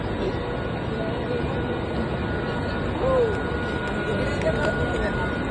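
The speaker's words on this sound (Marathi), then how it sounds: "थोड्या वेळ आपली ट्रेन येणार आहे" A local train bound for Karjat arrives at a station near Vangani village, rumbling steadily close by with a faint metallic squeal of wheels, and people talk over the noise.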